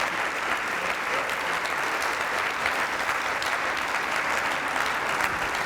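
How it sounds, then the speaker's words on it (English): A crowd applauds the Crime Fighters of the Year recipients at a National Night Out Against Crime kick-off ceremony, giving a steady, even round of clapping that carries on unbroken throughout without any speech. "Can we get a round of applause for all the Crime Fighters of the Year recipients"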